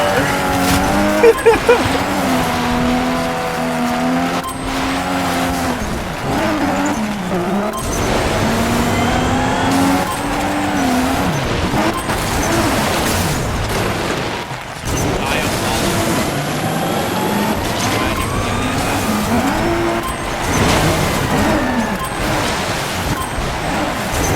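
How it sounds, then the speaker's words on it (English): Rally car racing in Motorstorm Pacific Rift, its engine revving and droning steadily throughout with pitch swings through gear changes and cornering, while people talk over it. "In a rally car."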